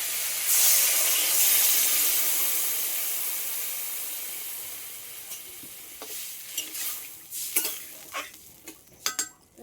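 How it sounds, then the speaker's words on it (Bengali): Water splashes into a hot pan while Bengali fish curry with greens stalks cooks, giving a loud, close hiss that slowly fades, followed by a few light clinks and scrapes of stirring. "জল দিয়ে দেবো জল"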